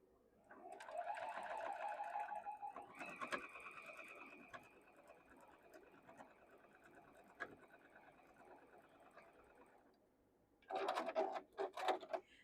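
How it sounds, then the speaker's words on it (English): A sewing machine runs a 1/4 inch seam on a Tula Pink modern quilt block, a steady whirring stretch lasting several seconds, then stopping before a short burst of clicks and handling noise. "We're going to sew it down here with a 1/4 inch seam."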